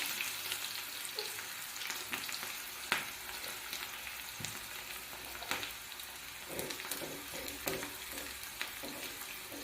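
Chopped onions fry in oil in a pan with a continuous soft sizzle, and scattered spoon taps and scrapes come from stirring; no voices are heard.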